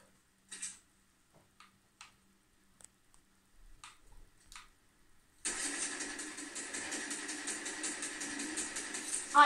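In the Fortnite Chapter 2 video game, a truck engine starts up and settles into a loud, steady running drone after several seconds of faint, scattered clicks and taps.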